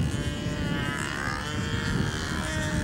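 A model airplane flying at a 2009 Brodak event, its small engine giving a steady high buzzing drone that holds evenly throughout, fairly loud with no talk over it.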